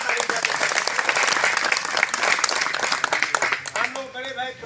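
Loud, sustained applause and clapping from a political rally crowd in Jakhaniya, a dense wash of claps that continues steadily before easing near the end, where a voice rises over it.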